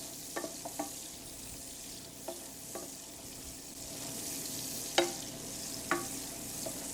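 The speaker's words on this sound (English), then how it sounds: "We're going to start with some onions. Throw them in there. And we're going to sweat them down." Onions sweating in a pan for a sauce give a soft, low sizzle with occasional clinks and scrapes of stirring, close by but fairly quiet, with no one speaking.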